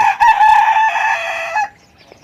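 A young rooster, under three months old, crows once close by, a loud, slightly rough cock-a-doodle-doo lasting under two seconds before cutting off.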